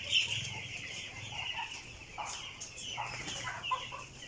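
Eleven-day-old broiler chickens in a grower area keep up a soft, continuous clucking and peeping chatter from a flock. It is fairly quiet and steady, with occasional louder chirps and no speech.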